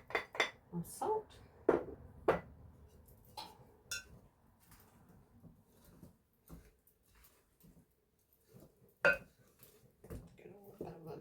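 Flour, baking soda and salt mixed in a bowl for rustic Irish bread, heard as scattered clinks and knocks of a utensil against the bowl, quiet and intermittent with pauses between.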